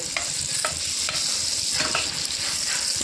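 Butter melting in a pan for restaurant-style butter chicken, a steady close sizzle and fry with light periodic stirring scrapes running throughout.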